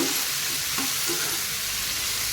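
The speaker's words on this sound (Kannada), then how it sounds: "ಇದು ಕೂಡ ಚೆನ್ನಾಗಿ ಈರುಳ್ಳಿ ಒಟ್ಟಿಗೆ ಕಾಯಿ ಮೆಣಸೊಟ್ಟಿಗೆ ಫ್ರೈ ಆಗಬೇಕು" Tomato frying in a pan with onions and green chilli, a continuous close sizzle with a faint stir partway through.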